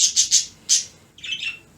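Small birds give a burst of high, sharp chirps and squawks, four quick calls followed by a busier twittering cluster, close and fairly loud with no voices over them.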